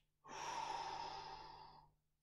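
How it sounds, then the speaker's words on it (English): A single long, steady exhale during a seated stretching exercise for posture and mobility, breathy and close, lasting under two seconds before fading out. "Breath in, breath out."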